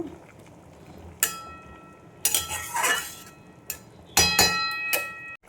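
Metal lid set on a pot of chital fish curry with green chillies, a few sharp metallic clinks and clatters separated by short pauses, close and fairly loud over a quiet kitchen background.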